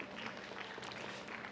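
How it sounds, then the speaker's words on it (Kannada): Women in the audience of a live stand-up comedy show at a hotel clap together, a dense, steady burst of applause heard faintly at a distance. "ಒಂದ್ಸಲ ಜೋರಾದ ಚಪ್ಪಾಳೆ ಇರಲಿ ಹೆಣ್ಣುಮಕ್ಳು"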